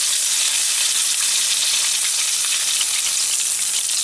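Chicken roulade sears in hot oil in a pan, giving a loud, steady, close-up sizzle with a bright crackling hiss that holds evenly from start to finish, with no voices.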